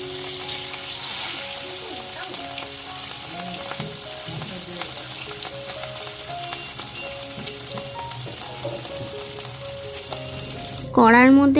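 Fish frying in half-depth oil in a kadai in a Bengali home kitchen, a steady close sizzle running throughout with background music tones, ending in a sudden louder burst.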